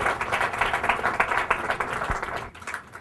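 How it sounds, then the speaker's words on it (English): Audience applause at an economics and population roundtable, a dense patter of many hands clapping that stays steady for most of the moment, then thins out near the end. "Let's give a round of applause for Dr. Rosling."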